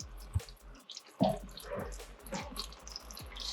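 4L80E transmission fluid draining from the pan into a bucket, a quiet close trickle with scattered drips and splashes, low and uneven.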